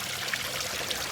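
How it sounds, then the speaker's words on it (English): Garden waterfall with a good vertical drop, flowing steadily: a continuous rushing, splashing wash of water, even and fairly close, with no voices. "a pretty good waterfall and a pretty good vertical drop"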